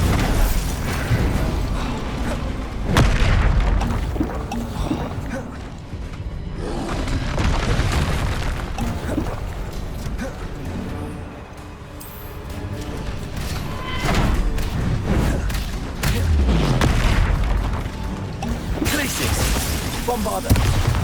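Repeated booming spell blasts and heavy impact thuds from combat in the video game Hogwarts Legacy, loud and dense, mixed with game effects, music and occasional shouted voice lines.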